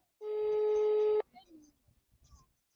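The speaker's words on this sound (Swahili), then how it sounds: "Ashiki simu." A call to a phone that goes unanswered gives one long, steady ringback tone lasting about a second, followed by faint, muffled voices.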